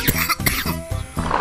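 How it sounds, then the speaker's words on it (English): A person coughs close to the microphone, several loud, rough bursts in quick succession over about a second and a half, with a throat-clearing quality. "Of all times to cough up right now."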